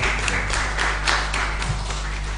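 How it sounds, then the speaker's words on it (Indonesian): Classroom applause for a student group at a school olympiad final, a brief patter of scattered claps over a steady low hum. "kita beri tepuk tangan untuk kelompok D ya"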